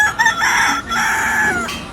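A person imitates a rooster crowing, a loud close, strained cock-a-doodle-doo with a stuttering start and a long wavering tail, heard alone without other talk.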